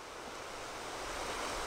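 Gray's River in western Wyoming rushes along between mountain ranges, a steady broadband hiss of flowing water, faint and even with no voices.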